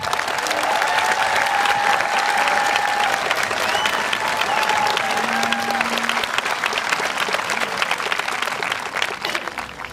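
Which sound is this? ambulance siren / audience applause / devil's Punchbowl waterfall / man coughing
audience applause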